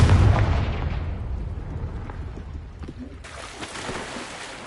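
A Confringo blasting curse goes off in Hogwarts Legacy: a loud, close boom at the start that decays into a long rumbling tail, with no one speaking.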